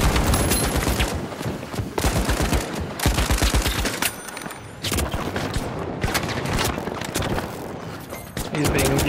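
Dense, sustained gunfire from an online arena shooter, The Finals: rapid automatic bursts and shots crackle almost continuously with booms mixed in, loud and close, while players talk over the fighting.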